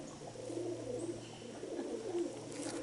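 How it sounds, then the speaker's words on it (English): Pigeons coo close by in soft, repeated low calls over a faint background hum, with no talking. "I'm just going to do a close-up of these pigeons on here"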